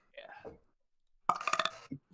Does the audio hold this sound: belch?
yes